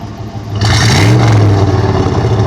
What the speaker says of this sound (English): Yeah, rev it a little bit.